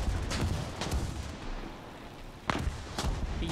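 Heavy main-gun shots from a vehicle in War Thunder, several loud booming reports spaced irregularly, with a few tight clusters and a quieter gap midway, no talking.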